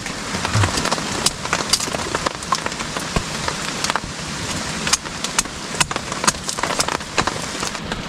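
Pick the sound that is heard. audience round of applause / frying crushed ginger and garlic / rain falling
rain falling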